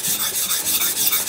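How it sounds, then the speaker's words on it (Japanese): Steady rasping strokes of a dull machete or sickle being sharpened on a whetstone, a close, continuous rubbing grind in short repeated passes with no talk. "ほんと久々に研ぐよ"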